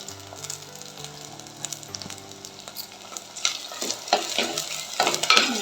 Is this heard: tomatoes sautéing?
yes